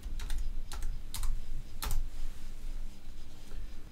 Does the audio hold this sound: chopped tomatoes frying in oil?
no